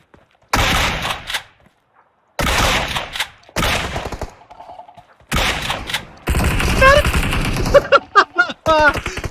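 A Thompson submachine gun fires in the video game PUBG in several loud, rapid bursts separated by short gaps. Brief clanks and fainter mechanical sounds follow.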